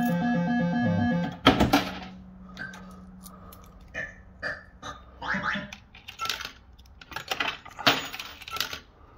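Tokens clink and drop inside a Golden Nudges coin fruit machine, a burst of metallic clatter followed by scattered bright rattles and taps after a short electronic tune.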